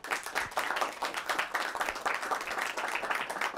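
A talk show studio audience claps and applauds to welcome a guest onto the set, a dense, steady burst of many hands lasting throughout with no voices on top.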